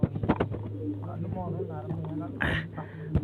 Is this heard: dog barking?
no